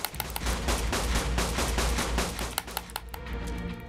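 Rapid sustained gunfire from weapons in the game Ark: Survival Evolved, inside a volcano cave, with dense overlapping shots and bursts, loud and continuous, thinning out toward the end.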